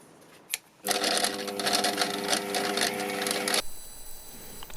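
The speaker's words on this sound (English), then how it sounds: "That rattling on my lathe is just the fan at the back of the shaft, just rattling away." Lathe running with its fan rattling at the back of the shaft, a loud sustained buzzing rattle with steady mechanical tones that starts abruptly, holds for about three seconds and then cuts off, leaving a faint hum.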